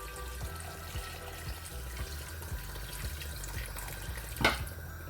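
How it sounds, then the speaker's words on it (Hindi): Water is poured into a pot of spiced haleem (reesha daleem) during cooking. A faint, steady trickle runs with soft clinks and knocks, ending in a brief louder splash, and no one talks. "इसमें पानी मैं और ऐड करूँगी।"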